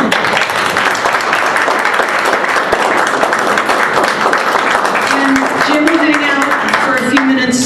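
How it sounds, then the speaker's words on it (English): An audience at a Tortoise Group meeting applauds speaker Jim Moore: dense, steady clapping from a roomful of people that runs unbroken and loud throughout, with a few voices mixed in. "So, everybody, let's do one more round of applause for Jim Moore"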